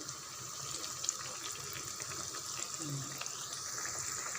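Masala vada frying in hot oil, a steady close bubbling hiss with faint rustles of the fritters being gently turned, a voice murmuring lightly underneath.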